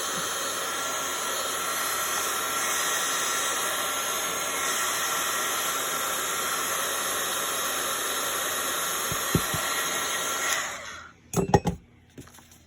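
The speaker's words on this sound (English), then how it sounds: "I'm gonna hit it with the heat gun for a second" A heat gun blows a steady, loud hiss of hot air onto craft paint droplets for about ten seconds, then cuts off and leaves a few brief clatters and handling noises.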